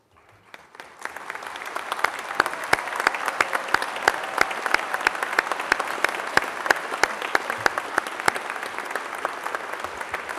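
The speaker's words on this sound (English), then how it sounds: "please stand as we applaud your dedication, expertise, and commitment to student learning" A large crowd at a technical college's spring commencement ceremony applauds faculty and staff, the clapping swelling within the first second into sustained, even applause with sharp individual claps standing out near the front.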